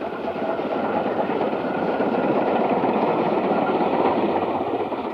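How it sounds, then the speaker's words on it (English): A steam train labours up the climb to Drumochter Pass in Scotland's Grampian Mountains, a loud, steady rumble of engine and rolling wagons with faint rhythmic clatter throughout. "train is now climbing to Dromorta Pass in the Grampian Mountains."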